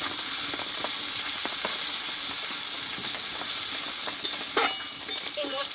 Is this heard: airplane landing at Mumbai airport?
no